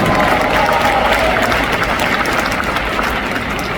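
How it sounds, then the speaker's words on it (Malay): A large audience at an Amway KL & Selangor recognition event claps and cheers, a loud dense roar of applause and crowd noise filling the hall throughout. "Tepukan untuk Amway sekali lagi."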